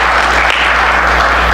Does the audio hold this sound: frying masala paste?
no